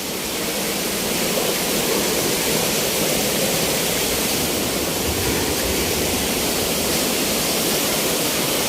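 Pyalitan Falls pours in a steady, dense roar of falling water, a broad continuous wash heard near and unbroken, with no voices.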